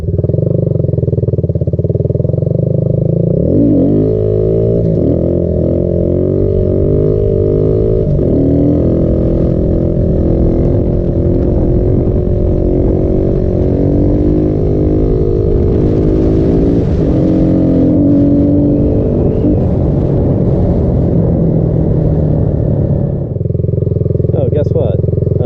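Kawasaki Z125 motorcycle engine revving during a wheelie, loud and close throughout, with the pitch rising and falling as the throttle opens and closes, and wind buffeting over it.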